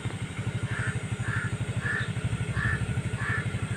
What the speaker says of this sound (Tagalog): hala, may narinig akong tunog ng ibon